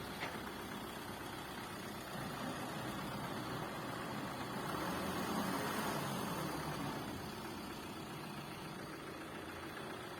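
Truck delivering fill soil at a house construction site, a steady low rumbling engine idling nearby with a faint swell of louder running in the middle, no talk.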